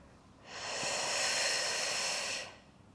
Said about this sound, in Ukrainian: Вдих. видих. І заключний. Вдих.